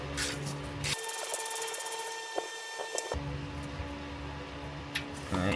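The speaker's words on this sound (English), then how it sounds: "we got to run a thread chaser through it to clean up threads before we can put any bolts through it" Thread chaser being worked through a threaded bolt hole on the frame of a 2006 Toyota Tundra Double Cab, giving a steady raspy metallic rubbing and ratcheting for several seconds, close and fairly quiet.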